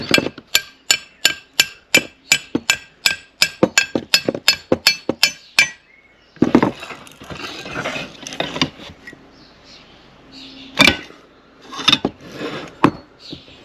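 A steering shaft on a Talbot Express is hammered out of its bearing, with about fifteen sharp metallic blows in a fast steady rhythm, followed by scraping and clattering of metal parts and a few more isolated knocks, close and loud.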